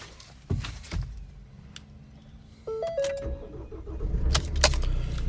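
A 2016 Ford Tourneo Custom 2.0 TDCi 130 van heard from inside, with keys jangling and an ignition chime, then the diesel engine cranking and catching into a steady idle, close and moderately loud.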